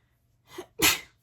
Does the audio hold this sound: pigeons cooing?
no